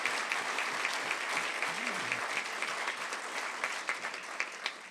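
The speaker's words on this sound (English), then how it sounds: "a louder applause than I get" Audience applause at a business awards evening, sustained clapping from a room full of people, moderately loud and steady, with a brief voice murmur partway through.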